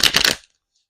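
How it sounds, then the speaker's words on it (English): A quick, crisp fluttering riffle of cards, over in under half a second, followed by silence. "One more shuffle, please."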